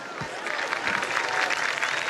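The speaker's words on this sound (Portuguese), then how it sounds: "Palmas para vocês." A huge crowd at an open-air Mass on Copacabana beach in Rio applauds, a broad, distant roar of clapping with a faint low thump near the start, sustained and swelling slightly without clear speech.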